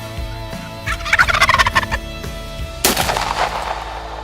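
Wild turkeys gobble close by on a hunt, a loud rapid warbling gobble followed by a second strong burst, with a sharp crack cutting in partway through.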